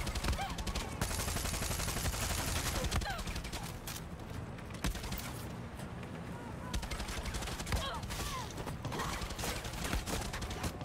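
Rapid bursts of gunfire shooting at a target in the Far Cry 6 video game, dense and continuous through the clip, with some game effects mixed in and a voice speaking over it.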